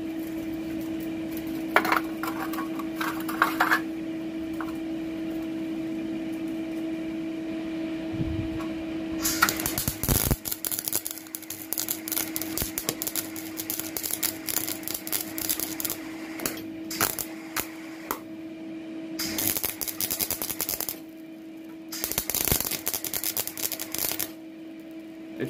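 Welding machine working on an old car: bursts of crackling, sizzling arc noise start and stop several times, separated by quieter stretches of steady hum.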